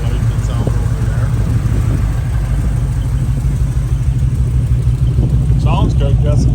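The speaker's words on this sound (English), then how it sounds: "got some good sound in exhaust" Steady, loud low rumble of a 1980 Chevrolet K5 Blazer engine running close by, with throaty exhaust tone and faint voices in the background.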